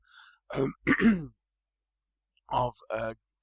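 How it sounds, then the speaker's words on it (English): A throat clearing sounds up close, followed later by a second short vocal burst, with quiet pauses between them. "No, I just cleared my throat."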